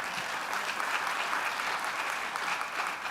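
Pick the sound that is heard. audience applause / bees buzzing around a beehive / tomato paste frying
audience applause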